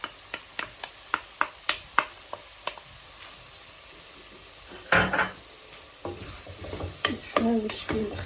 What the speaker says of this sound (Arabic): غادي نشحر لنا الدجاج